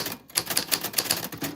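A typewriter clacking steadily, with rapid, closely spaced key strikes at an even pace, crisp and near, and no voices.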